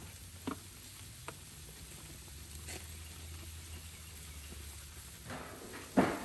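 Wild hog coppa steaks sizzle softly in a pan with a low steady hiss, broken by a few faint ticks and a louder clatter near the end.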